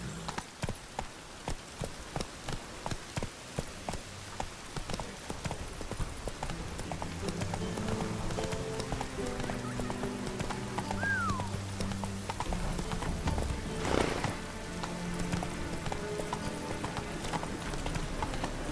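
Horse galloping in The Witcher 3 video game, rapid rhythmic hoofbeats that settle into a steady run over a bed of game music and ambience.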